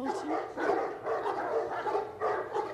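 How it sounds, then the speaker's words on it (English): A pack of hounds barks in a Game of Thrones episode, with loud overlapping barks arriving in rhythmic bursts about every half second. "you hear the dogs, you immediately stop"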